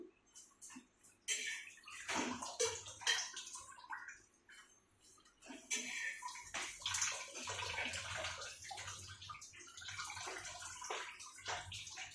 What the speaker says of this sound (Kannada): ಅವಲಕ್ಕಿಗೆ ನೀರು ಹಾಕಿ ತೋರಿಸ್ತೇನೆ